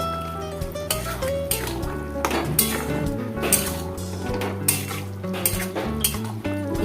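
Fish masala with turmeric and salt being stirred and sautéed in a pan, with repeated metal spoon scrapes and clinks against the pan over a thick sizzle, loud and close.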